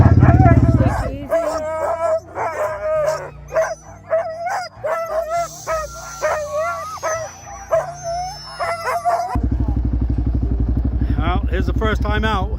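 Sled dogs bark, yip and howl together in an excited, overlapping chorus, with an engine rumbling loudly at the start and again at the end.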